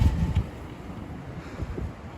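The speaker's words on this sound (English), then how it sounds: "It's so windy." Strong wind buffets the microphone on a Manhattan street in Midtown, a heavy low rumbling roar with gusty surges and no speech.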